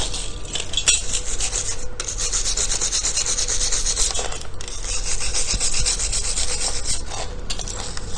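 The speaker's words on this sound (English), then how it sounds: "take a wire brush, clean it up even more" Wire brush scrubbing across a freshly made weld, a steady loud raspy bristle scraping that runs continuously with brief pauses between strokes, up close and alone without talk.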